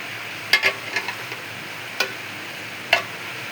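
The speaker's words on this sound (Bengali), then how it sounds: "যে লতি দিয়ে এটা এখন কষিয়ে নিচ্ছি" A fish curry with jackfruit seeds and taro stolons is stirred and sautéed in a pot. A few sharp spoon knocks and scrapes land irregularly over a soft, steady sizzle, with no talking.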